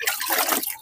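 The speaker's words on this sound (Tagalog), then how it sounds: "binabasa natin siya ng tubig" Clean tap water poured over solar panels, a brief close splashing and trickling wash of liquid across the surface, alone without talk.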